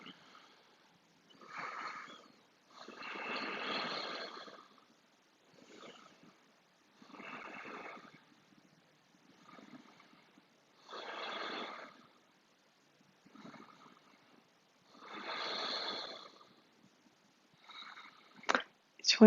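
Slow, deep breathing held through a yoga triangle pose: about six long, rhythmic breaths close to the microphone, each a soft airy rush, with quiet pauses between and no talking.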